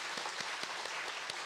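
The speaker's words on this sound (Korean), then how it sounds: "우리 큰 박수로 하나님께 영광 올리겠습니다" Brief applause from a church congregation during Sunday worship, an even wash of many hands clapping, slightly distant and unbroken.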